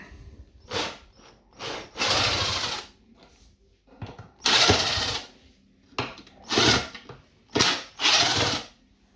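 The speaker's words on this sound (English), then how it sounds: "Screw off these battens here." Power drill driving screws out of battens on a wooden kitchen table, heard as a series of short whirring bursts of varying length separated by brief pauses, loud and close with no talking.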